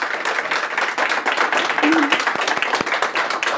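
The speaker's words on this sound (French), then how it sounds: "Bonne main d'applaudissements." Applause from a conference audience fills the room after a talk, a dense, continuous patter of many hands clapping that holds steady for several seconds.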